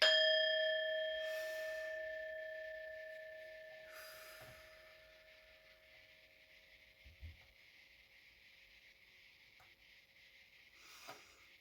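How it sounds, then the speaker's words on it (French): A bell is struck once, its clear ringing tones sustaining and slowly fading over several seconds, with faint rustles and small knocks in the quiet room afterward. "Ok, so, la cloche."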